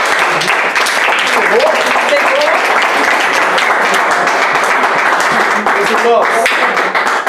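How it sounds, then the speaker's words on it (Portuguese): A church congregation applauds throughout, a dense, steady wash of clapping from a large crowd, with a voice calling out briefly over it. "Aplauda o Senhor pela vida da fé."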